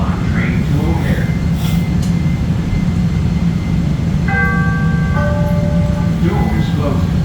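A Chicago Blue Line subway train bound for O'Hare rumbles loudly and steadily from inside the car, with a short electronic chime sounding midway and faint voices beneath.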